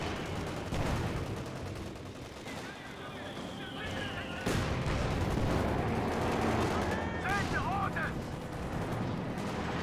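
Gunfire and artillery blasts from a Company of Heroes 2 battle replay with German Ostheer troops firing, dense bursts and booms layered under a commentator talking throughout.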